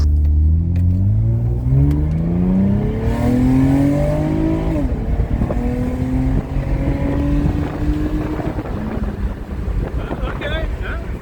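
An Acura TL fitted with an upgraded throttle body and manifold spacer pulls away, its engine revving up through rising pitch, easing briefly, then climbing again, loud and close inside the car with wind noise.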